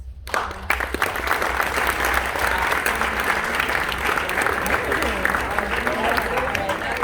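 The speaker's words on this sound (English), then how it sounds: "Stand up, round of applause." A ceremony audience at a gavel-passing event breaks into sustained, dense applause that holds at an even loud level throughout, with a few voices mixed in beneath the clapping.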